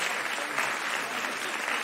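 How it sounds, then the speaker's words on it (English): Audience at a TED talk breaking into applause for a performer, a dense steady wash of clapping from a large crowd, loud and sustained from start to finish. "Let's give Francois a big round of applause."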